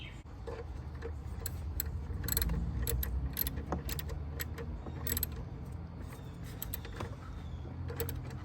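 A ratchet tightens the PCM screw on a Dodge Durango RT, giving a run of quick metallic clicks and ticks close by over a low mechanical background hum.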